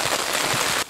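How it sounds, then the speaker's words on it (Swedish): Rain falls outdoors in Alaska as a dense, steady hiss of drops on surfaces, close and fairly loud, briefly thinning at the end, with no talking. "nu börjar det regna"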